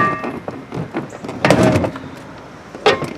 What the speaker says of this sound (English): It made like a loud noise when I'm trying to shut this door in this vehicle.